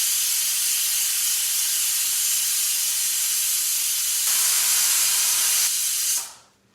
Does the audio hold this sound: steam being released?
yes